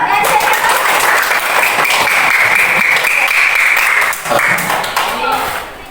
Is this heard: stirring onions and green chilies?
no